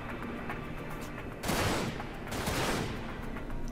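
Enemy gunfire in the Dirge of Cerberus: Final Fantasy VII video game, two loud broadband bursts of shots over a steady game backdrop, no speech.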